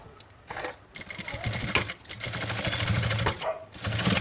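Sewing machine running a straight seam to hold down the lining of a medium backpack, a steady mechanical whir with brief pauses and restarts, close and moderately loud, with no voices.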